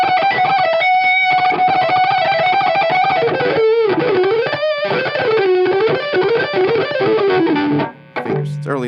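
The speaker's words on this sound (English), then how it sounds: "And all the way down, I think it's distortion channel." An electric guitar plays through a JHS Angry Charlie pedal on its distortion channel, producing loud, compressed, saturated single notes and bends, sustained and continuous, ending with a brief pause and a final lower note.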